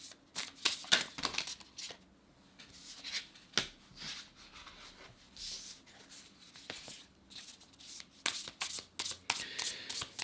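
Tarot cards being handled, shuffled and drawn, soft rapid riffling and flicking in bursts with brief pauses, close and quiet, no talking.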